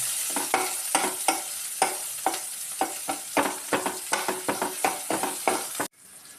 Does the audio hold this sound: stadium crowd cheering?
no